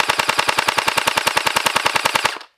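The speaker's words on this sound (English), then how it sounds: "but let's see how many RPS it shoots." A Gel Blaster Surge 2 XL fires a rapid full-auto burst of about two dozen evenly spaced snapping shots, close and loud, at roughly ten rounds per second, then stops abruptly.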